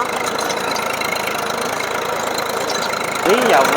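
A tractor's diesel engine idles steadily up close, running with an even knocking rumble throughout, then grows a little louder near the end.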